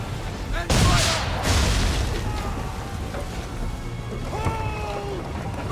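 Naval cannon fire in the video game Assassin's Creed III booms once, loud and close, near the start, then rolls off into a windy, sea-swept backdrop with shouted voices and creaking tones.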